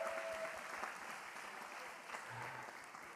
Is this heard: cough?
no